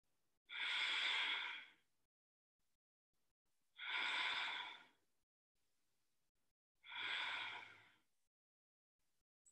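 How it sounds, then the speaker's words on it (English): Deep breaths during a yoga bridge pose come in three long, slow, airy exhalations, evenly spaced a few seconds apart with quiet pauses between, close and alone. "Big breathing."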